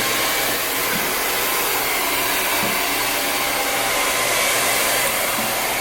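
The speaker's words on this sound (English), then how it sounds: "I'm gonna blow dry in the direction of how I want. It's probably too loud." A hair dryer blows steadily and loudly at close range while drying hair during a textured haircut styling, an unbroken airy roar with slight shifts as it moves.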